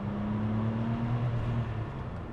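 Porsche 993-generation 911 engine heard from inside the car as a steady, fairly loud low drone with a faint tonal hum, no voices.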